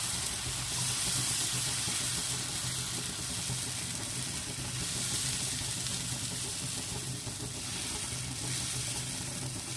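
Ragi dosa batter spread across a hot pan gives a steady, soft hiss and crackle, faint and continuous with no voices over it.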